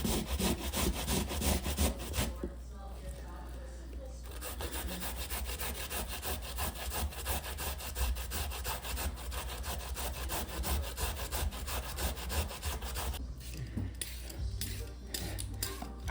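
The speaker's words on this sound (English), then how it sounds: "now I'm peeling the remaining portion of my potatoes" Sweet potatoes are peeled by hand, giving close, rapid scraping strokes in a steady rhythm, with two brief pauses, and small knocks and clatter near the end.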